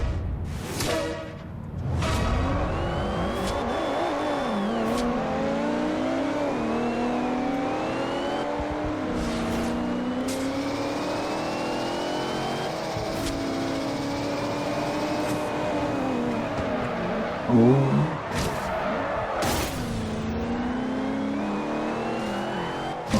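Race car engines in Forza Horizon 2 rev and accelerate continuously, rising and falling in pitch through gear shifts over a sustained loud run, with occasional sharper bursts and no voices.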